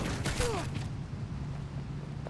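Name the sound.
rockets incoming in a video game (Call of Duty: Ghosts)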